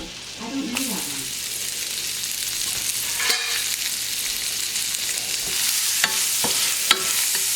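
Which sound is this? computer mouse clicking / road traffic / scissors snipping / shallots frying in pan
shallots frying in pan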